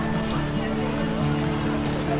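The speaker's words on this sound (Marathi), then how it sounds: "इथे आल्यावर जोरात पाऊस सुरू झाला" Heavy rain pours steadily at a fish market, a dense continuous patter close by throughout, with faint background voices mixed in.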